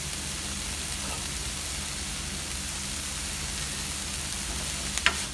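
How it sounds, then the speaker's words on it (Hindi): Lal bhaji (red amaranth greens) frying in a pan, giving a steady, even sizzle throughout with a small clink near the end; no talking. "ये फ्राई हो रहा है।"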